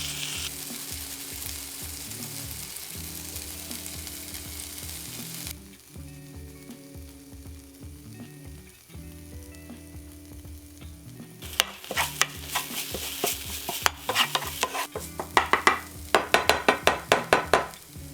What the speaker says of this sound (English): I'm gonna grate the ginger and garlic straight into the pan, fry for a minute or so until it's fragrant